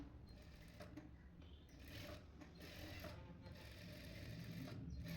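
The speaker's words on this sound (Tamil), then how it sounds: "இப்போ நான் தையல் போடுறது பாருங்களேன், லைனிங்கை மெயின் பீஸையும் ஓப்பன் பண்ணிவிட்டு இந்த மாதிரி தையல் போடணும்" A sewing machine stitches a dress's lining to its main piece in a fast, steady mechanical whir with faint clicking, quiet and continuous, slightly louder toward the end.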